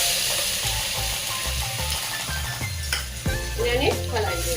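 Ginger-chili paste and garlic hit hot oil already crackling with mustard seeds, cumin and asafoetida, sizzling steadily while a spoon scrapes and clinks against the pan, close by.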